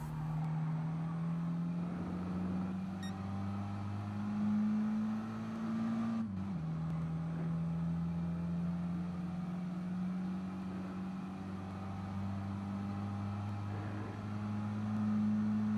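A racing car's engine drones at a steady high pitch on the Nurburgring Nordschleife in Gran Turismo Sport, dipping briefly midway as it shifts, then holding steady again with a faint tire and road rush underneath.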